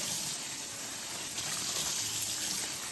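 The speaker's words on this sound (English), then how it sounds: "When you're all done, rinse it" Water streaming into a kitchen sink as it is rinsed out after cleaning with vinegar, a loud continuous hissing gush that holds steady throughout, close and alone.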